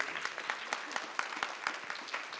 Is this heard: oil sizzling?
no